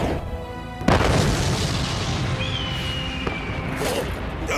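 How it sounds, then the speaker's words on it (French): A single loud cartoon cannon blast booms close by, followed by a long rumbling roar and a high whistling tone that trails off. "Oh, mes canons."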